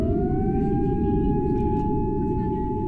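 A police car siren in a Windows-themed game wails continuously, a single steady rising tone sustained over a heavy low rumble, fairly loud and close with no talk.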